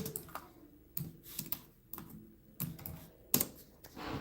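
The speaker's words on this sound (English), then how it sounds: "let me type it here" Quick bursts of typing on a computer keyboard, close and fairly quiet, with irregular clusters of key clicks separated by short pauses and no talking.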